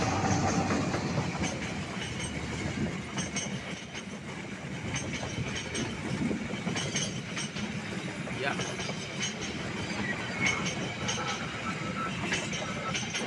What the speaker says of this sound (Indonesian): datang nih kereta dari barat di masuk. Wih, di stasiun Cimekar